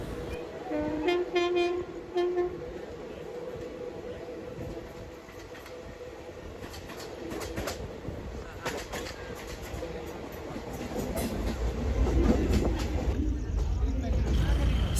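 Begumpura Express train running on the rails between Roza Junction and Shahjahanpur at night, a steady rumble and clatter from inside the coach that grows louder toward the end, with someone speaking over it.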